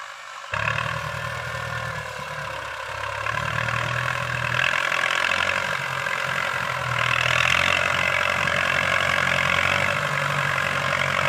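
A Ford 6610 tractor plowing a sticky clay rice field, its engine a steady close drone that grows slightly louder and heavier partway through, with no voices.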